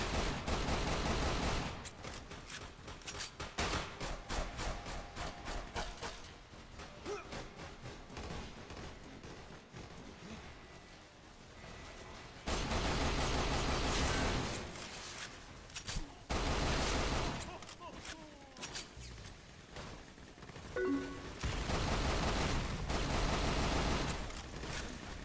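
Turret gunfire in the video game Lost Planet: loud, dense bursts of rapid automatic fire, roaring for several seconds at a time with brief quieter gaps between volleys.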